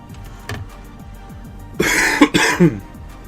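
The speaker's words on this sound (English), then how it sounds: "And excuse the cough." A person clears their throat and then lets out a couple of harsh coughs close to the microphone, over a quiet background with faint clicks.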